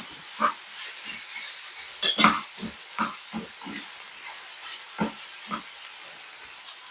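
Butter sizzling in a hot pan while cooking a chicken and mushroom dish, a steady bright hiss throughout with repeated short popping crackles, fairly close and moderately loud, no talking.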